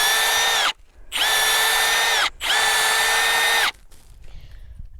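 Power drill whirring in three bursts as it clears out a tap hole bored in a maple tree, each run steady and loud with brief pauses between, ending in quiet outdoor background.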